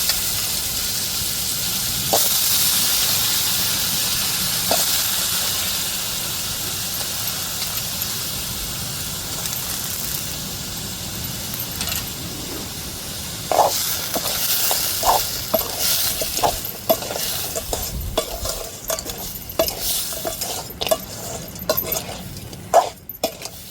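Crab pieces going into hot oil already cooking with ginger and garlic give a steady close hiss of frying, which later breaks into sharper sizzles, pops and spatter bursts as the pan is stirred.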